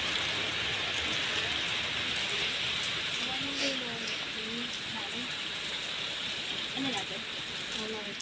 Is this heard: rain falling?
yes